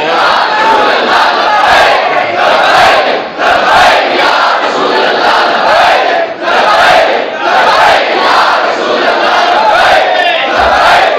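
Large gathering at a religious sermon chanting the slogan Labbaik in loud, rhythmic collective shouts, rising in repeated waves with brief dips between calls, close and overpowering.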